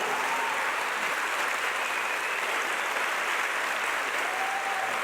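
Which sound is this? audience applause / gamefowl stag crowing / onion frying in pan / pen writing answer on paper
audience applause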